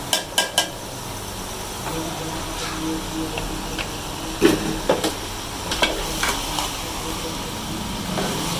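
Okra stirs and fries in a tomato masala, a soft sizzle with a few sharp spoon knocks against the pan at the start and scattered scraping strokes throughout, close and moderately loud.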